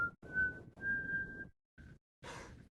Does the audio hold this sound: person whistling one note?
yes